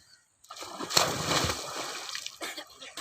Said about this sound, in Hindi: बच्चे एंजॉय कर रहे हैं, पानी में नहा रहे हैं।